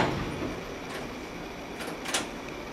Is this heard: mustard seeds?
no